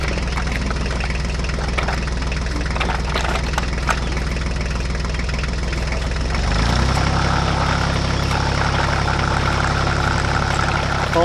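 Small engine of a homemade DIY mini tractor runs steadily at close range, a low rumbling idle that shifts to a deeper, heavier throb partway through, with no talking over it.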